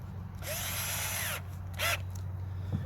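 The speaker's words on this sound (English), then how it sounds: "I'm going to drill a hole in the side of my bucket." A power drill with a hole saw grinding into the side of a plastic bucket in a long burst, then a shorter second burst, close and loud.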